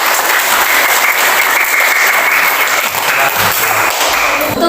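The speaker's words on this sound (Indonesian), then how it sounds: "Kasih tepuk tangan untuk kelompok keadilan." A classroom audience claps for a presenting group, dense, loud applause held steadily throughout, close and continuous with no pause or voices standing out.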